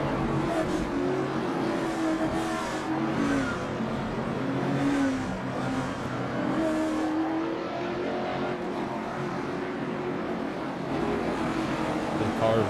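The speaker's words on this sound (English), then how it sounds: "The car's rolling through the field right now" Late model stock race cars running through the field at Five Flags Speedway, a continuous loud engine roar with rising and falling revs, heard at a distance beneath a voice talking.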